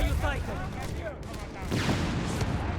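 Dense battle sounds from Company of Heroes 3: machine gun bursts and mortar impacts rumble continuously, with someone commentating over the gunfire.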